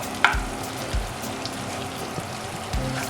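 Pieces frying in oil in a pan give off a steady soft sizzle and crackle with occasional pops, moderately close and quiet, with no talking.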